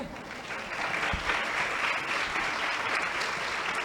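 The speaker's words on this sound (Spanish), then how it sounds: "Adelante, si la van a aplaudir, por favor." An audience at a Colombian panel of women leaders in economy and business gives a round of sustained applause, a dense patter of many hands at moderate volume that holds evenly throughout.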